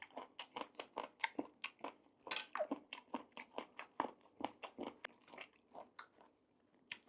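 Crunchy pork ear from a Mon-style hot pot chewed close up in quick, rhythmic crisp bites, each crunch distinct against near silence, with no talking.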